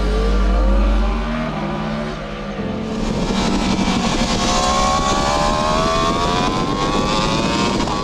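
A close, loud engine drones, then revs up with rising pitch as it accelerates hard, the whine climbing steadily and staying strong.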